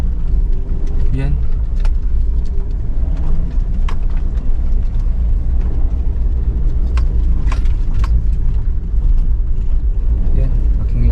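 Vehicle driving over a rough, unpaved road near a river campsite, with a steady loud engine and chassis rumble throughout plus occasional rattles and knocks, with people talking over it.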